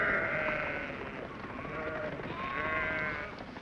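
Sheep bleat twice in sheep country, once at the start and again near the end. Both calls are moderately loud, wavering and nasal, set against a soft, rumbling outdoor background.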